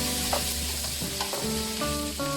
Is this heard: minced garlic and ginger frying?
yes